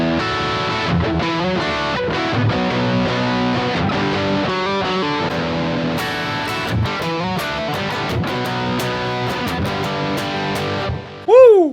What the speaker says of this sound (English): when we get into the verse, we're gonna keep the distortion on, and we have this part now